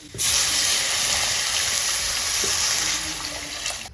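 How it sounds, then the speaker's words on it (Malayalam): Water pours steadily into a pan of fish curry with a strong rushing, hissing splash that holds for several seconds before easing slightly. "ഇനി നമുക്ക് വെള്ളം ഒഴിക്കാം"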